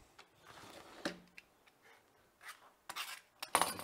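A knife making a few light scoring cuts across a paua abalone shell strip, giving quiet, sparse scratchy strokes and soft clicks, close and faint, with a couple of sharper scrapes near the end.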